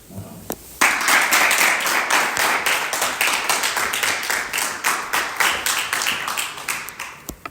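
A round of applause as speakers are brought onto the stage at an evening program, dense rapid clapping from an audience starting sharply after a couple of isolated claps and continuing loud and steady.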